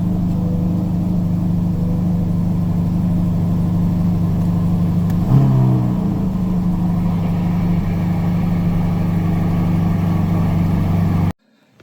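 A car engine idles steadily nearby while cars are loaded onto a hotshot trailer in the cold, a constant low hum with one brief rising rev midway before it cuts off abruptly.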